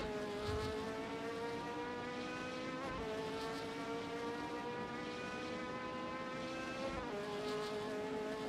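A Mazda RX-7 race car engine drones at high revs during a simulated touring-car race at Sandown, a sustained buzzing harmonic tone with brief pitch drops near the third and seventh seconds, steady and moderately loud, with no speech.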